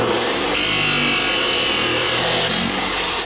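A power tool cuts pie cuts in metal pipe for a homemade V8 exhaust, giving a loud, steady grinding whine that runs the whole time with a slight change partway through.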